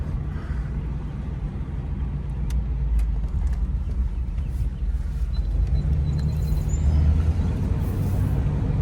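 A 1991 Cadillac Brougham on a test drive, its engine and road noise a steady low rumble from inside the cabin, with faint rattles and ticks over the continuous drone.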